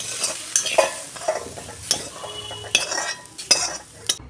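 Fried soybean chunks are tipped and stirred in a pan, with sharp metallic clinks and scrapes at irregular intervals over a low, continuous sizzle.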